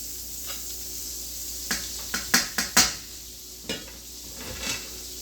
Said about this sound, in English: You're gonna put your butter. And once that's melted, you're gonna add your garlic.